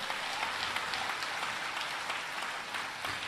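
An audience at a Balaji Hanuman devotional gathering claps, producing a steady, fairly distant patter of hands that continues evenly throughout, with no talking over it.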